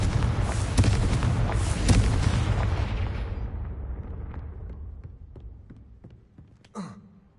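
Confringo spell explosions in Hogwarts Legacy give a loud rumbling blast that slowly fades, followed by a softer whooshing burst near the end.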